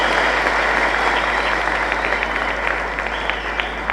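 Steady applause from a political rally audience in Tamil Nadu, a dense even wash of clapping with a constant low hum beneath, sustained throughout without pauses.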